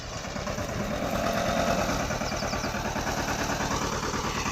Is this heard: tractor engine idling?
yes